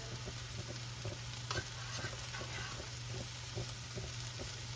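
Sesame seed and coconut powder is stirred into an opo squash curry, bringing a soft continuous sizzle under a low steady hum, with scattered light scraping taps of the spoon against the pan.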